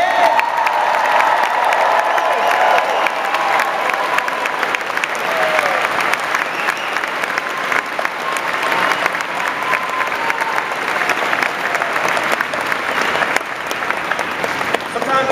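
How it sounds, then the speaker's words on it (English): Commencement crowd applauding and cheering for the graduating class of 2010, a sustained, loud roar of clapping with scattered whoops and shouts throughout. "giving a crushing applause to the class of 2010"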